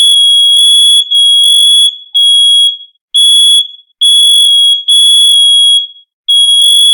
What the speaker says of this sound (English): There's the damn detector going off.